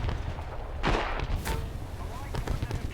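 Tank cannon fire in War Thunder from a 2S38 vehicle: one sharp, loud blast crashes out near the start and is followed by a second crack and rumbling game noise, with someone talking over it.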